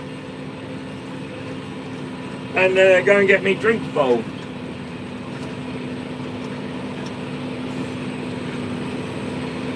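A farm tractor engine drones steadily at close range throughout, a constant low hum with a faint whine on top, while a voice briefly speaks over it partway through.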